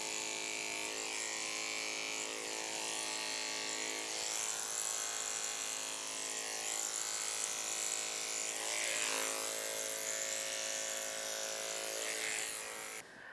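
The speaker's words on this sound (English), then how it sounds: "When I'm going down the back leg, I try to use the clipper to blend my lines seamlessly from the get-go." Electric clippers buzz steadily and continuously while grooming the back leg of a miniature schnauzer, the motor whine close and unbroken throughout with slight shifts in pitch as the blade moves through the coat.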